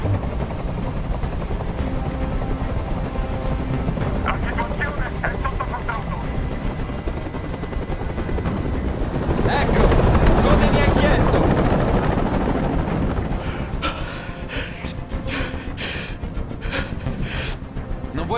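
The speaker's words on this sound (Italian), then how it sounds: "Digli di mandare via quell'elicottero!" Helicopter rotor noise from the video game Detroit: Become Human drones steadily and swells louder midway, with brief sharp bursts near the end, and a voice speaks faintly in Italian over it.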